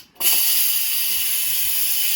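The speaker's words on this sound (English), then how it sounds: "make sure to vent your pressure cooker" A pressure cooker full of coq au vin vents its steam: a loud, sustained hiss bursts on after a brief quiet moment and keeps spraying steadily.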